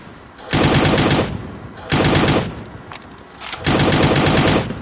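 Automatic gunfire in the video game Cyber Hunter comes in three loud rapid bursts, each about half a second long, separated by short quiet gaps with faint game sounds.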